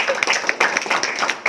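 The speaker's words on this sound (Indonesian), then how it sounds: "Luar biasa, tepuk tangan." Audience applause follows a call for clapping at an Indonesian motivational talk, a steady dense patter of many hands that stays loud for about a second and a half.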